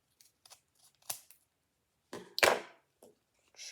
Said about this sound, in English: That means we have to cut carefully.